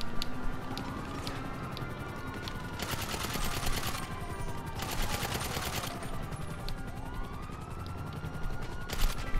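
Gunfire in GTA Online, steady repeated shots layered with wailing police sirens and busy game noise throughout, fairly loud and continuous with no talk.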